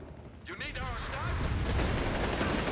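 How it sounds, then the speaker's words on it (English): Rapid bursts of machine gun fire and explosions from a Company of Heroes 3 battle rattle continuously under a commentator's voice, growing denser and louder toward the end. "Jaeger's machine guns in the east."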